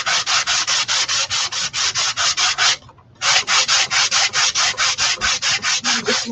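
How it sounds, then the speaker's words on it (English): Sandpaper rubbed back and forth over the wooden surface of an upcycled clipboard sign, loud close rasping strokes in a steady rhythm with a short pause midway before the strokes resume. "But I do want to sand it. It's just a little rough."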